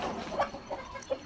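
Chickens kept at a rural family home clucking in the morning: a few soft, scattered clucks at moderate distance against a quiet yard.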